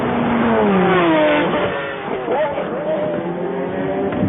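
A BMW prototype racing at the 1999 Le Mans 24 Hours on the Mulsanne straight howls past, its engine note climbing then falling away, under continuous race commentary.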